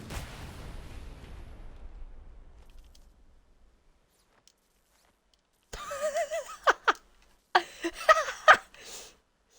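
A nuclear missile blast in the vehicle-building game Trailmakers: a broad, rumbling roar already under way that fades out over about three seconds, then a pause before someone bursts into loud, giggling laughter.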